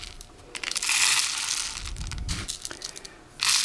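Filling tumbles and rattles inside a rain stick as it is shaken, a rushing, crinkling cascade that swells and fades, close by, with a louder burst at the end.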